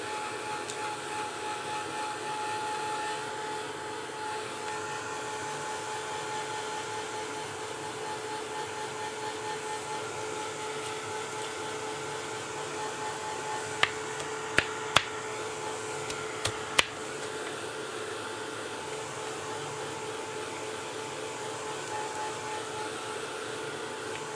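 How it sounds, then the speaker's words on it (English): A slow heat gun blows steadily across a mixed media canvas, a close, even whooshing hum that holds for the whole stretch, with a few faint clicks partway through. "this is where I use the slow heat gun. Better than the fast one, so then you don't overburn."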